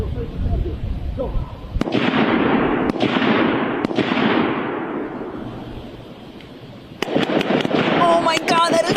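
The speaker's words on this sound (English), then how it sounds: "He shot so close to this guy's arm." Gunshots at a shooting range: a few sharp, loud cracks each trailing into a long ringing decay, then a quicker cluster of shots, with people talking and exclaiming over them.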